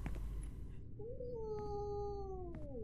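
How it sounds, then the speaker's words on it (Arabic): A cat in the video game Yuppie Psycho gives one drawn-out, wavering meow, clear and close, rising then slowly falling, after a brief bit of background noise. "لا، القطط من داخل اللعبة"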